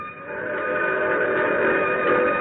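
A train rumbles past in an old-time radio drama, with a steady rolling clatter and sustained whistle tones that swell louder toward the end, heard alone without talk.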